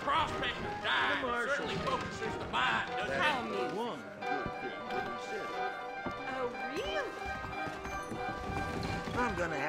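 Rhythmic clip-clop of horse hooves in Red Dead Redemption runs under steady music and a speaking voice, moderately loud throughout.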